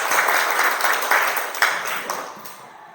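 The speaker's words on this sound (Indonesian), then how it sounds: "Iya, benar sekali. Berikan aplaus." Students applaud in a classroom, a dense patter of many hands that slowly fades toward the end, with a teacher's voice faintly underneath.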